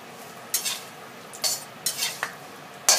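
Chinese sausage (kun chiang) frying in a pan while being stirred, with a soft sizzle punctuated by four or five sharp scrapes of a spatula against the pan, close and fairly quiet, no talking.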